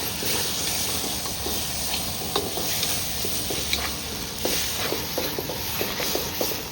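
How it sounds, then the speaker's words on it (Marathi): Fried onion and tomato slices sautéing in a pan of gravy, giving a steady close sizzle and hiss with occasional soft scraping stirs, no speech over it. "हे कांद्याचे काप आणि टमाट्याचे काप जे आपण फ्राय करून घेतले होते ना तर ते आता याच्यात मी घातलेले त्याला चांगलं थोडंसं परतून घ्यायचं"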